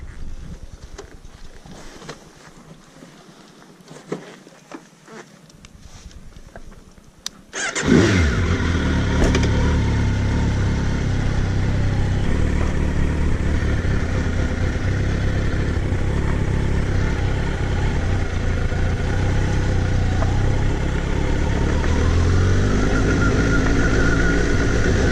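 A motorcycle engine cranks and fires after a quiet stretch of faint rumbling, then settles into a steady, loud, close idle that runs on unbroken with no talking.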